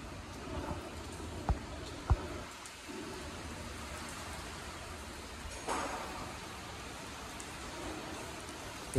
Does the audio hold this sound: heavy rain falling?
yes